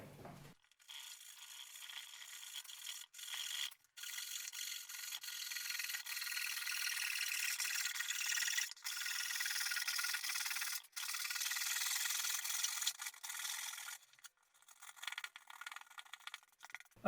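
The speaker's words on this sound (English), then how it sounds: "So let's get to sawing." A hand saw cuts through a wooden table plate for a DIY couch table, giving long, steady rasping strokes with brief pauses between them. It sounds close and continuous, with no one talking.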